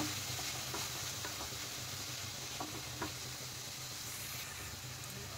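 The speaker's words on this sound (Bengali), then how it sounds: "দিয়ে দিলাম বাঁধাকপি। এখন এগুলো সব উপকরণ ভালোভাবে আমি মিশিয়ে নেব।" Cabbage and sweet corn momo filling stir-fried over high flame, a steady, fairly quiet sizzle with occasional stirring taps and scrapes.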